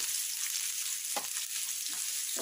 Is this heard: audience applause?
no